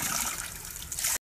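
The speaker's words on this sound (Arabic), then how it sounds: "نشرب من هذه الموية، ماء عذب طبيعي نازل من الجبل" Fresh mountain water runs down a small stream at a farm near Bihać, Bosnia, making a close, steady trickling gurgle. It cuts out abruptly for a moment near the end and then resumes.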